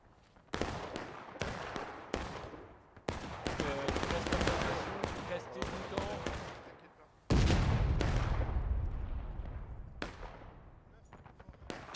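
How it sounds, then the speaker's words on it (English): Cannon fire and massed musket volleys in the War of Rights Civil War battle game, with a series of sharp loud reports, a heavy booming blast around the middle and rolling echoes, while a voice talks underneath. "It's that cannon shot."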